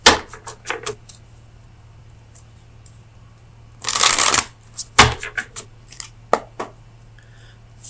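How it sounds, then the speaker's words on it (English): Oracle cards for a tarot reading are shuffled by hand in several bursts of crisp riffling and flicking, with a longer dense riffle in the middle and scattered card slaps, close and clear. "let me get you an oracle card from the Oracle of Visions"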